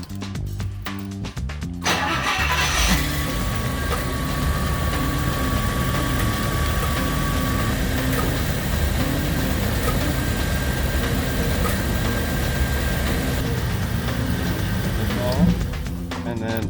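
A Rolls-Royce car engine runs steadily after starting, idling to build hydraulic pressure, a constant mid-pitched drone with a faint whine, near and even for the whole stretch, with a brief clatter at the start.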